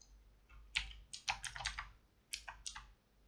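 Fingers type on a computer keyboard while CSS code is being deleted, with quiet clustered key clicks in short bursts and a brief pause between them.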